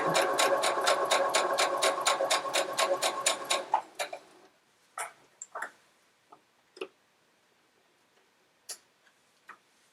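A sewing machine stitches two quilt pieces together in a fast, even run of needle ticks for about four seconds, then stops and leaves scattered clicks and taps of handling.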